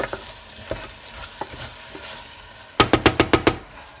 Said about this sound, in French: On déglace tout de suite avec de l'eau.